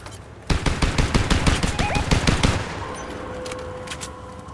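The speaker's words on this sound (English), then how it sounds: "Who's shooting at me?" Rapid automatic gunfire in the video game Fortnite, a loud, close burst of evenly spaced shots lasting about two seconds, then fading to quieter distant game ambience.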